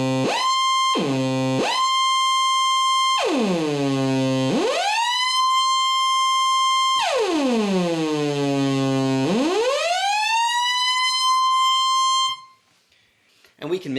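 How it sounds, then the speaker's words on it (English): An ARP Axxe analog synthesizer plays bright buzzy tones with portamento, pitch repeatedly swooping down and gliding back up into sustained notes, loud and alone. "Over here we have a portamento effect"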